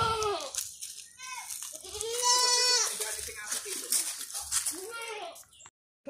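Goats on a farm bleating loudly and repeatedly at close range, several wavering cries in a row, while someone talks in between and over them.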